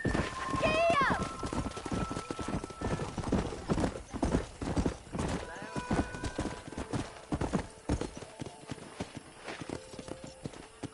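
Horse galloping in the video game Red Dead Redemption 2, with fast, continuous clip-clopping hooves and a brief whinny near the start, heard under talking voices.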